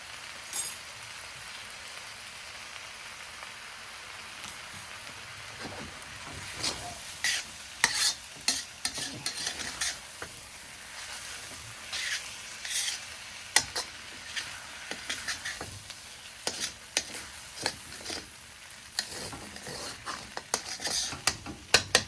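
Shrimp fried rice seasoned with sambal sizzles steadily in a pan while a utensil stirs and scrapes it, sending irregular clinks and scratches over the constant frying hiss.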